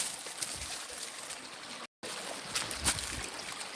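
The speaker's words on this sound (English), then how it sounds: "look at how fast and how much water is going through here" A fast homestead stream flows in a soft, steady hiss with faint gurgles, heard briefly and quietly with a short gap near the middle.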